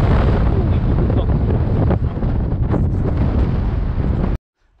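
Strong wind buffets the microphone on a mountain summit above Briançon, a loud continuous roar that gusts steadily for over four seconds and then cuts off abruptly, with no talking.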